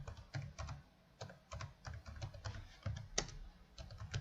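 Computer keyboard typed in quick bursts of soft, close key clicks with short pauses between words, steady and unhurried with no voices.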